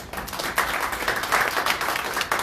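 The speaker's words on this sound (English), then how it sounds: "And so I really want to give a great round of applause to McCall for all of her hard work this year" A steady round of applause from an audience at a United Way campaign announcement, dense overlapping clapping filling the room with no speech over it.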